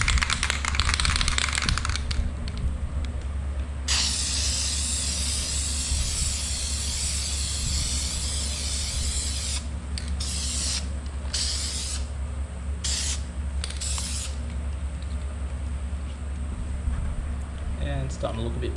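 Spray can applying a second coat of paint to an Evo X gauge cluster surround: a long hissing burst, then several short sprays separated by pauses, close and loud over a constant low background hum.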